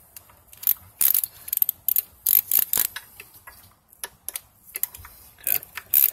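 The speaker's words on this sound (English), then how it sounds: "Let me grab my socket. Come in from this angle." A socket wrench ratchets on a valve cover bolt of a Jeep Wrangler JK with a 3.8-litre engine, giving crisp, close bursts of clicking separated by short pauses.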